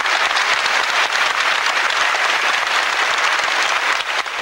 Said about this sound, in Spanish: La leyó y al final un aplauso inmenso.